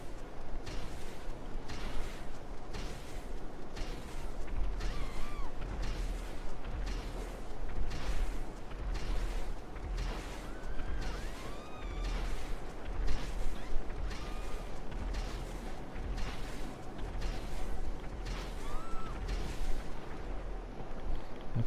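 Repeated missile launches from a Pegassi Oppressor Mk II flying bike in GTA Online, a steady series of sharp bursts about every second over a continuous engine-like rumble, loud and close with no talk.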